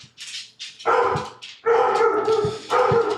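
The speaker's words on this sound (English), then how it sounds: "my dogs are losing their mind" Several dogs bark in sharp bursts at close range, with yips mixed in, three loud volleys over a few seconds.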